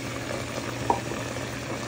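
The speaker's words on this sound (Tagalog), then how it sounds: "Lagyan natin ang gata, guys. Ito na sa gata." Coconut milk simmers with vinegar in a pan of spicy fish Bicol Express, producing a soft, steady bubbling sizzle up close with one brief faint click.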